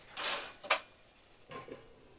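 A metal lid set down on a pot of meat curry with potatoes while it cooks, giving a couple of short clattery clinks, fairly close and moderately quiet, with no talking.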